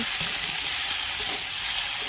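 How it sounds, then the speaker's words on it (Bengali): Okra, potato and beans fry with onion in a pan, giving a brief, dense and continuous sizzle up close with no talking. "পেঁয়াজ দিয়ে একটা ভাজা করছি"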